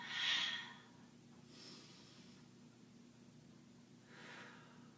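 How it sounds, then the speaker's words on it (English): Open-mouth exhales during a yoga session, a strong breathy rush of air at the start followed by two softer breaths, faint and close with no talking. "Maybe taking some open mouth exhales if you need."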